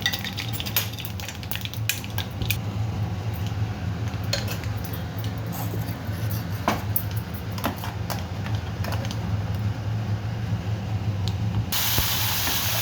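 Mustard seeds spluttering in hot sesame oil in a pan, a steady sizzling hiss with scattered sharp pops and crackles throughout, close and fairly loud, with occasional clinks of a utensil.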